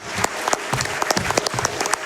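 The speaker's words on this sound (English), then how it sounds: "That deserves a round of applause." A short burst of applause at a speedrun event, several people clapping close by for about two seconds.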